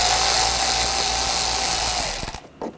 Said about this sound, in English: Using an 8mm socket,